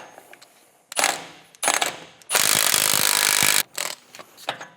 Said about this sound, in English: you can see it's impacting with a lot of force all the way off